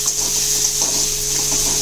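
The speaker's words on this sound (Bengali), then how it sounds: "এবার আমি এটাকে একটু ভাজা ভাজা করে নেব।" Sliced onion and capsicum frying in a pan, a steady close sizzle and hiss with a faint constant hum underneath.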